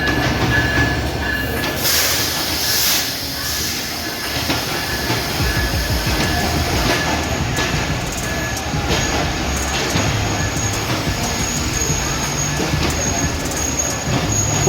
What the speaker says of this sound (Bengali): 804 down Banglabandha express Birampur railway স্টেশনের 1 নম্বর লাইন দিয়ে এই মুহূর্তে প্রবেশ করছে।